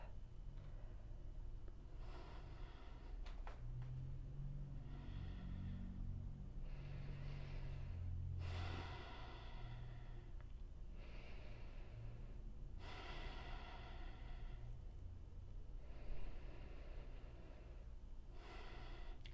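Slow, deep breaths held during a yoga twist pose, faint and close, with several long airy inhales and exhales spaced a few seconds apart over a low steady background hum.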